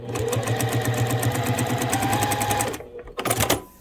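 A sewing machine stitches fabric for gently curved improv quilt piecing, the fabric fed under the needle without pins; a steady, close, fast mechanical whir runs for a few seconds, stops briefly, then resumes in a short burst.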